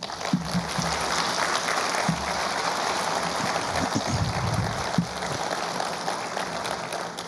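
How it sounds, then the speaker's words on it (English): A dense, steady wash of applause from a large audience, holding at an even level throughout with no voices standing out. "give her a round of applause"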